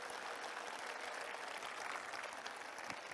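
Applause from a live audience at a talk concert in Seongnam, a dense, steady broadband clatter of many hands held at even loudness for about three seconds with no voices over it.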